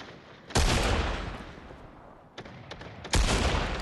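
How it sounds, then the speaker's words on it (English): Two loud, close bursts of gunfire in a video game, pistol shots ringing out with a long decaying tail between them. "I missed two pistol shots"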